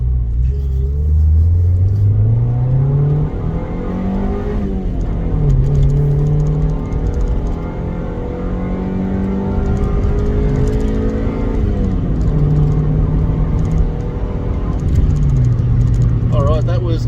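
A Honda Civic engine revs up through third gear to about 7,000 RPM on a test drive, its rising drone climbing in repeated sweeps between shifts. The sound is loud, close and continuous inside the car.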